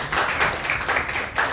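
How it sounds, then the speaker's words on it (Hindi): An audience at a church sermon claps together in a dense, continuous burst of applause, heard loud and close with no voices over it. "ताली बजा सकते हैं।"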